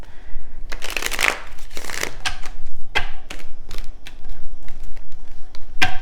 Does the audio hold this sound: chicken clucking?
no